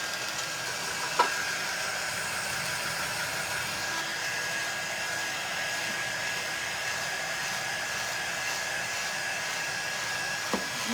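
A hair dryer blows steadily on a washed item indoors, a constant loud airy whir with a couple of faint clicks, running alone without talk.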